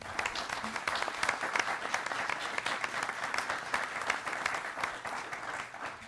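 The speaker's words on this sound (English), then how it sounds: "Let's give them a round of applause." A debate audience gives the gubernatorial candidates a round of applause, a sustained burst of many hands clapping at moderate distance, steady from start to finish with no talking over it.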